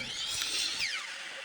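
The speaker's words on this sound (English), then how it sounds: "We hit the miter saw up and cut." A miter saw cutting scrap wood, a brief loud high whine that rises and then winds down within a second and a half, close and with no talk.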